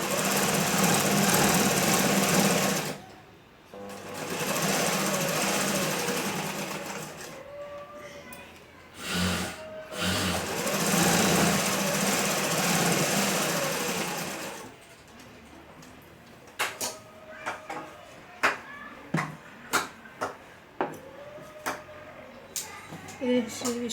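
A domestic sewing machine stitches a baby bonnet (kunchige) in bursts of loud, even motor whir with brief pauses, followed by scattered clicks and handling noises as someone talks.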